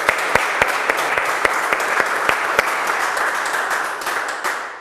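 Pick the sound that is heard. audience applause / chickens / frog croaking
audience applause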